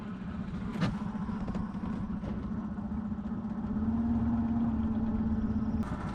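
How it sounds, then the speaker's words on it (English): A small engine runs steadily on a custom-made 13-foot pirate ship boat out on a lake during its first voyage, a low continuous hum with a slight rise in pitch partway through, moderately quiet. "The engine's running."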